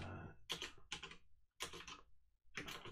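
Bursts of typing on a computer keyboard while entering command-line input for updating VMware ESXi, several quick clusters of keystrokes separated by short pauses, close and fairly quiet, with no talk.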